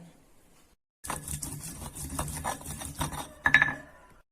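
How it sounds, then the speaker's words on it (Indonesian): Garlic and bird's eye chilies being ground into paste, likely in a food processor or blender: a dense, continuous whirring and chopping that starts abruptly after a second of quiet and swells near the end. "bawang putih kita bersihkan, lalu kita cuci sampai bersih bersama dengan cabai rawitnya, lalu ini kita haluskan."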